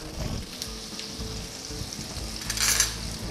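Onions fry lightly in a pan with a close, steady sizzle, a few stirring scrapes and a brief brighter hiss near the end.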